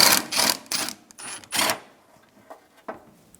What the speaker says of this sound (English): we're going to put a long extension through with a 12mm socket to remove the bottom bolt for the radiator